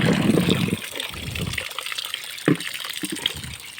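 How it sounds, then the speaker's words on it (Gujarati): Tap water gushes into a vessel to wash freshly picked sponge gourds, a strong close splashing flow for over a second that then thins to softer trickles and drips. "અને આપણે કરી દીધો છે નળ ચાલુ"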